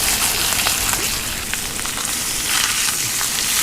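Trout fries in a hot pan, a steady loud sizzle with crackling pops, close by and without talk.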